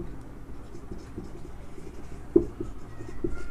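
Chalk or marker scratching across a board in a classroom, a quiet continuous scraping with one sharper tap near the middle, fairly close and alone without talk.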